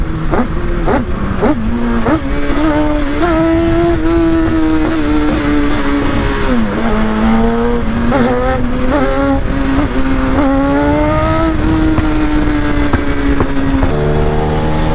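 A sport motorcycle ridden after a dream-bike upgrade from a 2024 Honda CBR650R revs loudly and up close, its engine pitch rising and falling through throttle changes and shifts over steady wind noise.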